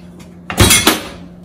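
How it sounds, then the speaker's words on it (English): An oven door shuts with a single solid thump followed by a brief rattle in a home kitchen, loud and close against a quiet background. "Close the door and set"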